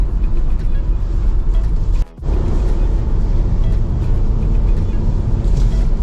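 Cabin drone of a 2022 Maxus G50 with a 6-speed manual cruising at 100 kph and 2,200 RPM, a loud steady low engine and road hum with a brief dip partway through.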